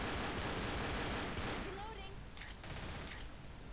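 Dense, rapid gunfire fills a Left 4 Dead zombie shooter match, a loud continuous barrage of submachine gun fire that thins slightly toward the end.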